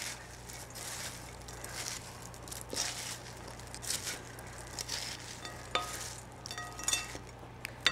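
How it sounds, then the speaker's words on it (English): Stuffed quahog mixture being stirred in a pan, giving faint, irregular scraping and light sizzling bursts over a steady low hum, with sharper clicks late on. "Mix that around a little bit."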